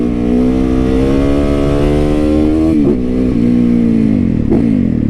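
A Supermoto motorcycle engine revs loud and close, a steady buzzing drone that swells and dips with two brief throttle blips, no voices.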